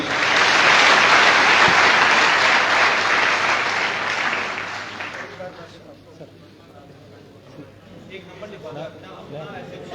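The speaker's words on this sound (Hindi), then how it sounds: "एक बार सभी तालियों से स्वागत करेंगे" An audience at a village election gathering in Uchana Mandi, Jind, breaks into loud sustained clapping for about five seconds before it fades away, followed by quieter background murmur.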